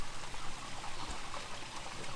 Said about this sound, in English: I'm going to open up my gray water tanks.